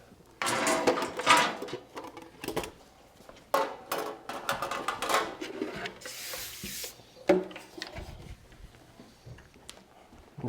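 A metal server rack drawer slides open and shut with repeated scraping, rubbing and clunking, mid-level and close, broken into irregular bursts of sliding and handling noise.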